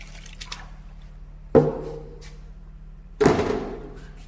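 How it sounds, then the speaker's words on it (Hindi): Soil is tipped into a liquid jeevamrit mixture in two separate dumps, each a heavy thudding splash with a brief wet slosh that fades, close by in a quiet outdoor setting. "इसके उपरांत हम डालेंगे मिट्टी।"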